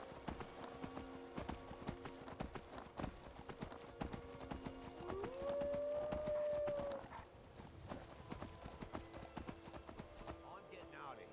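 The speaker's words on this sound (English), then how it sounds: "With the horse, we move fast enough where I don't really feel like it's too big of a deal." Horse hooves clip-clop steadily in a galloping rhythm within Skyrim, continuous and fairly loud across the whole stretch alongside game music, with a brief higher whinny-like tone midway.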